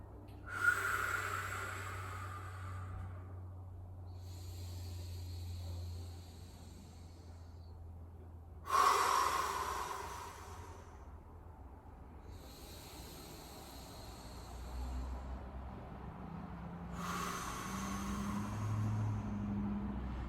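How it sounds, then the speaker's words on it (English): Slow, deep breaths during a yoga pose, each a soft hissing inhale or exhale that swells and fades at intervals of several seconds, quiet and close over a low steady background hum. "Take some deep breaths."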